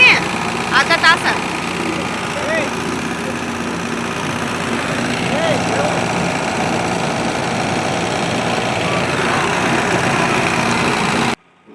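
A boat engine drones steadily and close while the boat travels on the Ganga river at Varanasi, a continuous low idling rumble with faint voices in the background before it cuts off abruptly at the end.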